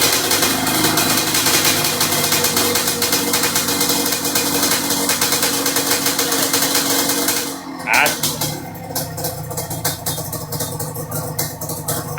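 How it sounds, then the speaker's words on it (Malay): A Yamaha RXZ two-stroke motorcycle engine idles steadily up close for several seconds, briefly cutting out before settling back into a rough, uneven idle, with people talking nearby. "Tadi bunyi motor."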